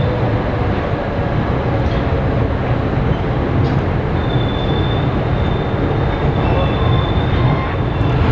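A train departs Samastipur railway junction in India, its wheels and carriages making a loud, steady, continuous rumble heard up close from on board, with a faint high squeal briefly rising over it.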